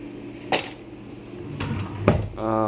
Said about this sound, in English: I go to my junk drawer and grab the only Allen wrench that I have